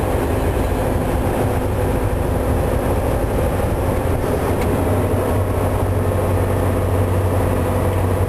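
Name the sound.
Volvo I-Shift truck engine brake holding back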